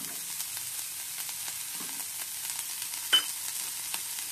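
Carrots sautéing in melted butter in a pan, a soft, steady sizzle with light stirring scrapes and one brief sharper clink near the end, no talking.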